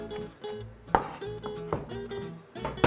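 A kitchen knife chops fresh basil and garden oregano on a cutting board for bruschetta, with a few distinct, fairly loud chops spaced irregularly over a quiet background.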